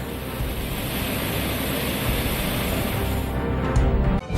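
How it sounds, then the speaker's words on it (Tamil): Flooded Thirparappu waterfall roars with a continuous, dense rush of heavy water, loud and unbroken with no voices. "இதன் காரணமாக திற்பரப்பு அருவியில் தண்ணீர் ஆர்ப்பரித்து செல்கிறது"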